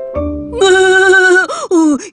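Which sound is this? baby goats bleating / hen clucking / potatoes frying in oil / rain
baby goats bleating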